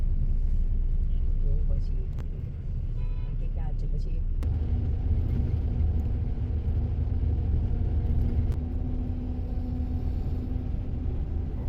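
A KSRTC air-conditioned seater bus cruising along the Mysore–Bangalore expressway, heard from inside as a constant loud engine and road rumble with a low whine, a few brief clicks and rattles over the drone.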